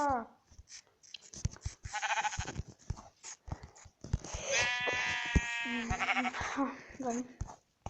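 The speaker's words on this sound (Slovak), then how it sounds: "Ovca!" Sheep in Minecraft bleat in short, buzzy calls interspersed with a player's frequent chatter, the bleats clear and fairly close amid the game's sound effects.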